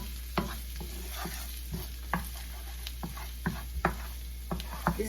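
Pepper sautéing in a pan while shrimp dishes are cooked: a soft continuous sizzle under repeated sharp clicks and scrapes of a utensil against the pan, close but quiet, over a low steady hum, with no talking.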